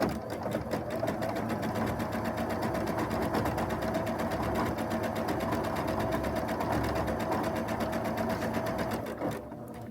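A sewing machine stitches a quilt block for a block-of-the-month project, running steadily and loudly at a fast even pace for nearly the whole stretch before stopping at the very end.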